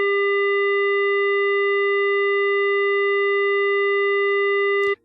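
A steady FM-synthesized tone with its modulation amplitude doubled, holding a strong low fundamental and a stack of bright, even upper partials, sounding loud and unchanging for about five seconds before cutting off abruptly.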